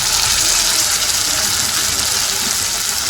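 Water rushes steadily into a pan of cooking fish, a continuous close gush filling the whole moment without pause.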